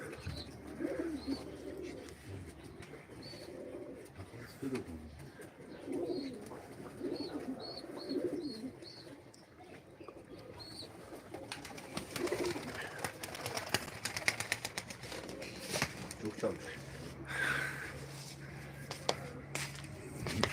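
Soft, repeated pigeon coos at a moderate distance during a live pigeon auction, with scattered chirps and some rustling and shuffling noises in the background.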